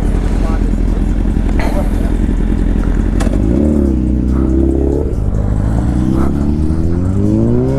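A motorcycle engine idles loud and close with a rough, throbbing drone, then revs several times, its pitch swelling and falling before climbing again.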